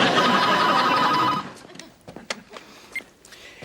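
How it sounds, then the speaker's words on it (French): A telephone bell rings loudly for over a second and then stops, followed by scattered faint clicks and handling noises in a quiet room. "Lorraine, téléphone!"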